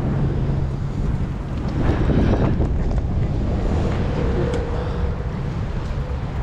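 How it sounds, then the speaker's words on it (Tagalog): Strong wind at sea near a fishing boat, buffeting the microphone as a steady, roaring rush with gusts, loud and close, with no talk over it. "Kaso lang mahangin talaga."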